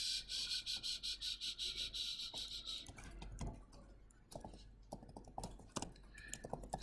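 A computer keyboard being typed on while code is entered, first as a steady run of rapid, regular keystrokes, then sparser, irregular clicks and taps close to the microphone with no talking.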